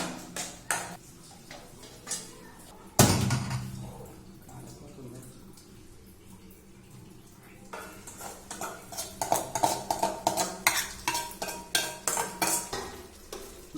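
A spoon clatters and scrapes against a pot as gravy is stirred into boiling chicken. One loud clank is followed by a quieter stretch, then a run of rhythmic metallic stirring strokes.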